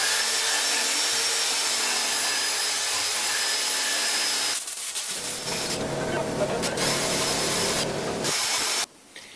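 Bolts on an Iveco Cargo truck being cleaned, a steady rubbing, spraying hiss that turns rougher and louder midway, then briefly drops off near the end.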